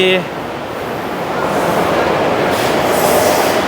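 A BTS Skytrain train at Siam station in Bangkok rumbles and rolls steadily, the noise swelling slightly as it runs, with a brief voice at the very start.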